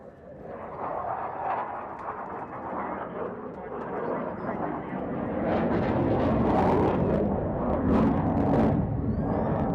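Loud, continuous jet roar from an F/A-18 Super Hornet flying a display routine over a beach air show, building steadily and staying strong throughout with no pauses.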